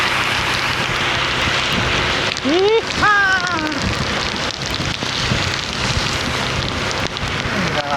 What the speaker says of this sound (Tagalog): Kaya ito, naligo na po ako sa ulan.